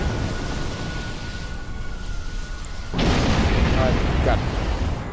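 Torpedo launch and explosion in the Star Trek Online video game, a sudden loud booming burst rising over steady background rumble partway through, with a voice speaking in the mix.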